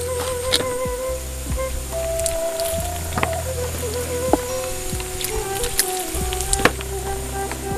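Cucumbers being washed with water for rujak, a steady wet splashing and squishing with small clicks and drips, moderately close and continuous.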